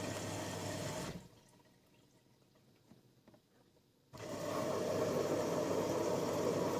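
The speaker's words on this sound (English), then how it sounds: "Softener is being squirted through." AEG Lavalogic 1600 washing machine in service mode, water rushing steadily as softener is flushed through the drawer, with a quiet gap in the middle before the flow resumes loudly.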